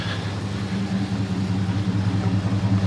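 A 2001 Dodge Durango engine idles steadily through a Flowmaster 40 series exhaust, a low rumbling drone with a constant, even throb and no voices.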